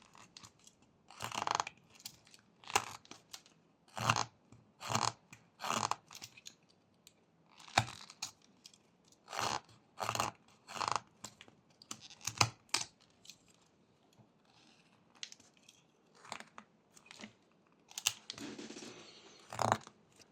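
A knife carves V-cuts into a small block of wood, giving a series of short, crisp scraping and snicking strokes in an irregular rhythm. The strokes are close and moderately loud, with brief pauses between them.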